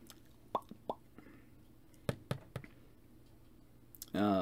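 Plastic parts of a Transformers Megatron toy are folded out, giving a scattered series of sharp small clicks and snaps, close and quiet, followed by a short burst of voice at the end.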